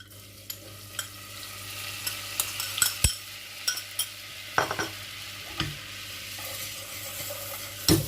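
Flour being stirred quickly into melted butter in a frying pan for a cauliflower and potato gratin: close, repeated scraping strokes over a steady sizzle, with a few sharper utensil knocks against the pan and no talking.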